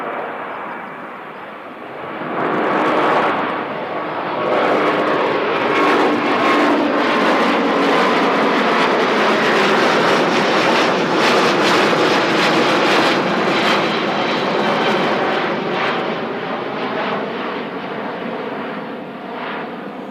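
Fixed-wing jet airliner, a Cathay Pacific aircraft, passing at Christchurch Airport on a windy day, a loud sustained roar that swells after a couple of seconds and holds steady before slowly fading, with no talk.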